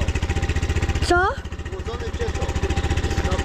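An Alfarad 250 fuel-injected motorcycle engine starts for the first time and settles into a steady, close, thumping idle with a quick rev, while a voice speaks briefly over it.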